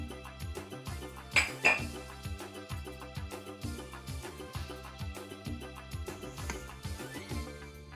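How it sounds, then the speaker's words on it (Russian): Dough for Uzbek samsa is stirred with a spatula in a bowl, with repeated clinks and scrapes of utensil against dish under a steady rhythmic music bed. "Сперва мешаем лопаткой,"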